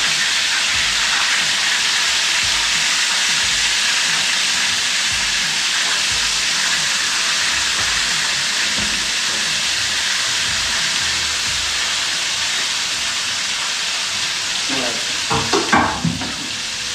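Continuous loud sizzling and hissing of food frying in a hot pan, with a few stirring clatters near the end; no voices.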